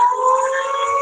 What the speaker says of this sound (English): a whistle or a siren.